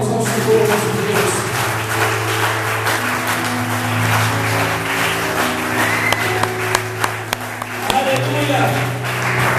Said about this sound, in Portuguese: Dê uma linda salva de palmas ao Senhor nosso Deus.